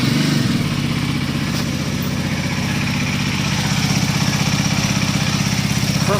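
A motorcycle engine, freshly rebuilt with new casing and timing settings, idling on its first cold start, a loud, steady rapid thumping that runs evenly the whole time, close by and alone.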